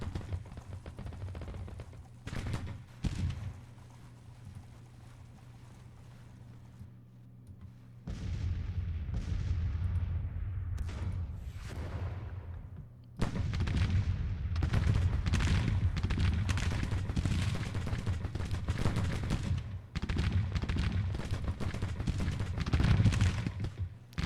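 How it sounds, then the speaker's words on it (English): Cannon fire booms across a Civil War battlefield in Grand Tactician: The Civil War, with repeated artillery blasts and crackling musketry swelling and fading in waves over a steady low rumble. "Our guns have also opened up."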